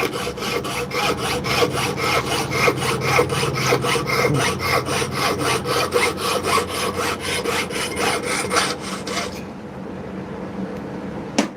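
A hand saw cuts steadily during handmade jewelry work, a close, rapid back-and-forth rasp of even strokes that carries on for about nine seconds and then stops.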